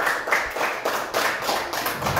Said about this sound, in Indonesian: Tepuk tangan untuk kelompok A.